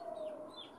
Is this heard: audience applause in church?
no